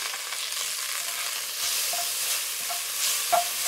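Butter and shallots sizzle steadily in a pan, a continuous bright frying hiss with a few stirring scrapes and small pops, close and moderately loud, no voices.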